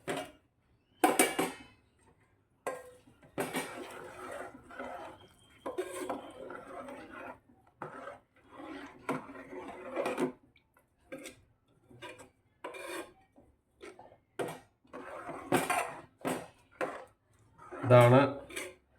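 Ghee-enriched erissery curry being stirred in a pot, with repeated scraping and clinking of a spoon against the metal in short bursts, close and moderately loud, with brief pauses between strokes.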